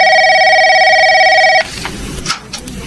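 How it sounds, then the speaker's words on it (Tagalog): A household telephone rings with a sustained electronic trill, loud and close, for about a second and a half before cutting off into quiet room noise. "Nagre-ring yung telepono natin."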